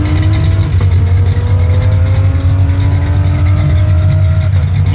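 Modified G-body Chevrolet Monte Carlo SS engine idling loud and close, a deep rumbling lope with rising whine harmonics and steady revving throughout, no talk.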